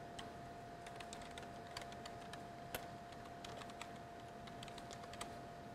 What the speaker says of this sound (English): in the name button, you can type in the name of your results